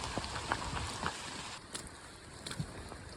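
Heavy rain pours through dense forest along the Rockwall hiking trail during thunderstorms, a constant hiss of drops on leaves and wet ground with scattered close splashes and patters.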